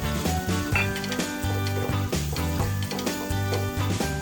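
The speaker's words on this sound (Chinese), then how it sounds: "就放入甜椒炒熟" Bell peppers and onion stir-fry in oil in a wok, a steady crackling sizzle with spatula scrapes and clinks of the pan, close and continuous with no talking.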